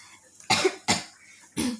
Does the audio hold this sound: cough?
yes